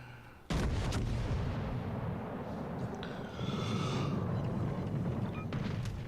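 Battleship guns firing in a naval video game battle: a single heavy, close blast that cuts in suddenly, then a long rumbling roar and distant whooshing of shells.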